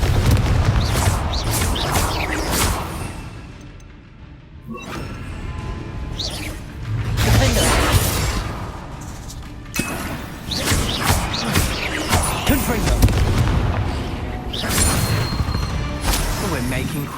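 Repeated booming blasts from the Confringo fire spell in the Hogwarts Legacy video game, heavy thuds and crashes arriving in bursts over a dense battle soundscape, with talk mixed in.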